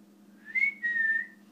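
A person whistles two short rising-then-level tones, the second held longer, clear and close over a low steady hum.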